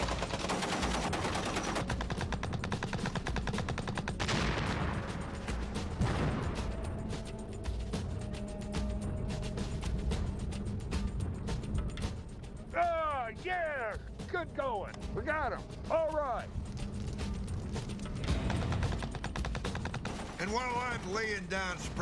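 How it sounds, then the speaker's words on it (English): Tank machine gun laying down suppressive fire during a documentary combat reenactment, rapid bursts of shots under a continuous rumble, with several sharp chirping squeals in the second half. "Laying down suppressive fire, the guys inside can get out and finish the job."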